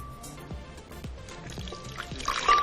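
Lemon juice trickles in a thin pour into a bowl of vegan cashew cheddar mixture, a soft liquid splash building toward the end, fairly close.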